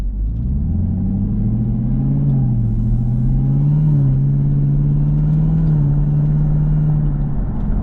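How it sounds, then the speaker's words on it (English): A ZL1 Camaro with a cold air intake and supercharger drones loudly from close by, a steady low engine rumble with a rising and settling tone as it pulls air, no voices over it. "I can hear massive amounts of air being pulled in. So the intake noise is definitely there."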